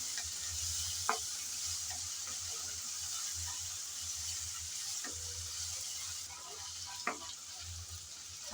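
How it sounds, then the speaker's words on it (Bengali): Ginger and garlic paste frying with onions in a pan, stirred as it cooks: a continuous close, hissing sizzle with a few isolated clicks of the spoon against the pan. "রসুন বাটা দিলাম আদা আর রসুন পেঁয়াজের সাথে নেড়ে চেড়ে ভেজে নিতে হবে যাতে কাঁচা গন্ধটা চলে যায়"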